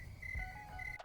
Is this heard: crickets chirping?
yes